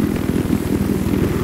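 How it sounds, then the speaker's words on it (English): A helicopter's rotor in the video game Battlefield 4 thumps in a steady, rapid low chop, loud and continuous, as if passing close overhead. "Enemy helicopter due west of your position!"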